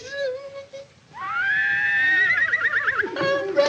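A horse whinnies loudly and close by, a long rising neigh that shakes and trails off, after a brief snort at the start.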